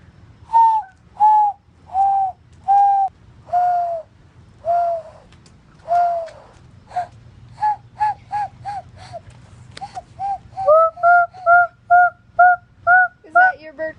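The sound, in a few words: person imitating a bird call with their mouth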